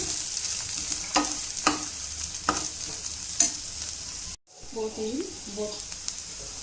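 Coriander powder frying with garlic paste in a pan for boti curry, a steady hiss punctuated by several sharp scrapes of a spoon, cut by a brief gap before a voice speaks over the sizzle.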